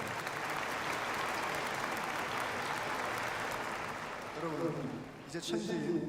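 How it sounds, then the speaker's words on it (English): Steady audience applause at an anniversary celebration of the founding of FFWPU, continuous and moderately loud, with a few voices breaking through as the clapping fades near the end. "let us give another round of applause to our beloved True Mother"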